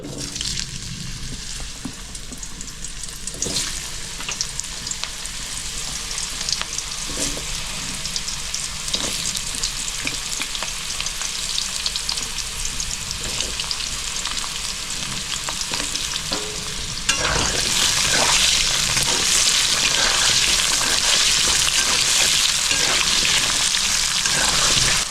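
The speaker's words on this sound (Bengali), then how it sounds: "মাছের মাথা ভাজার তেলের ভিতরে আলুটা ভেজে নিচ্ছি আমি।" Potato pieces frying in oil left from frying fish heads, a long steady sizzle with occasional spatula stirs, jumping to a louder, brighter crackle near the end.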